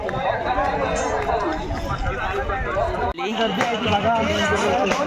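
Crowds packed in at the Kunkeshwar temple fair make a constant, fairly loud babble of many voices close by, with a brief dip partway through before the hubbub swells back.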